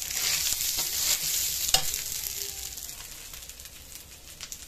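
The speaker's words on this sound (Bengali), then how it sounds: "মটর ছোলা দিয়ে চালটাকে একটু ভেজে নিতে হবে" Rice tossed in hot oil with peas and chickpeas, bay leaf and whole spices, giving a soft steady sizzle with scraping stirs and one sharp clack near the middle, fading slightly toward the end.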